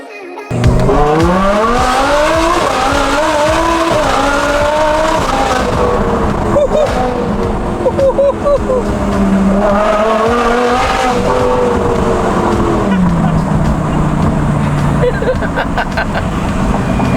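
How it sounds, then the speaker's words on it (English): A modified Lamborghini Huracan STO with a carbon fiber, gold-tipped exhaust screams through revving climbs and drops, loud and close, its sharp high-pitched note sweeping up and down continuously, with talk underneath. "To put it in a word, crispy sounding exhaust system."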